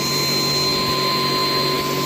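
A Henry vacuum cleaner runs at close range with a loud, steady motor whine and airflow roar, unbroken throughout with no talk.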